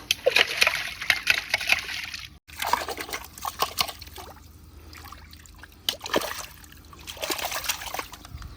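Irrigation water trickles and splashes steadily into a paddy field in irregular bursts, a close gurgling flow with occasional louder sloshes and no talking.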